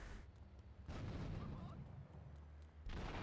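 A vehicle explosion in Grand Theft Auto III sounds as a loud, heavy boom that rumbles on for a couple of seconds before a second burst hits near the end.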